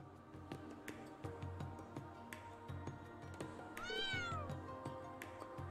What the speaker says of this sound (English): That was the cat that was always atop of the SSS building.